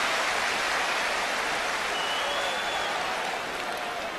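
A large stadium crowd at a 1992 FA Cup football match between Derby County and Aston Villa applauds in a steady, broad wash of clapping and roar that stays loud throughout.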